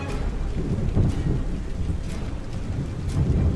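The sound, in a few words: rain with thunder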